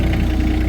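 The diesel engine of a mini skid steer runs steadily at idle outdoors on an 80-degree day, a close, even low rumble with a fast regular pulse and no talking.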